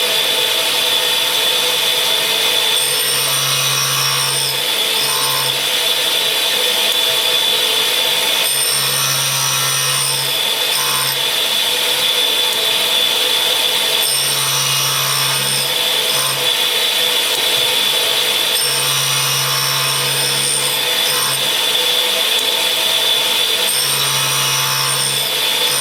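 A cutter grinder works steadily on a hardened cutter, giving a continuous high whine with a pass that repeats about every five seconds and brief low pulses as the wheel crosses each tooth, loud and close with no talking.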